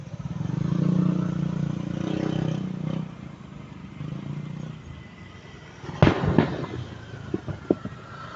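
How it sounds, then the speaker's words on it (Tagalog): Fireworks and firecrackers exploding at a distance, a series of sharp pops and bangs in an irregular cluster over a low background rumble. "Daming paputok."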